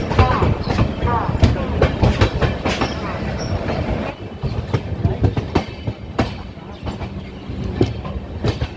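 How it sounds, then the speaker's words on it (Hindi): Inside the Indore Express between Lucknow and Patna, the train rolls on its rails with a continuous rumble and rhythmic clickety-clack of the wheels, loud and close, with faint voices in the coach. "ट्रेन डिपार्ट कर चुकी है लखनऊ से 15 मिनट की देरी से।"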